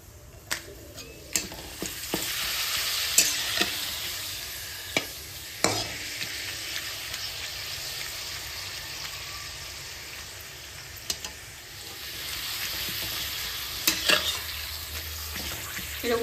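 Papad frying one by one in hot oil in a kadai: a quiet, bubbling sizzle that swells and fades, broken by sharp clicks and knocks of a utensil.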